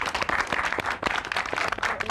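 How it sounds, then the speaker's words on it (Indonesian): An audience at a lively group competition show gives a steady burst of applause, many hands clapping densely and loudly throughout, with faint crowd noise beneath. "Untuk grup Wak Gung, kita beri tepuk tangan"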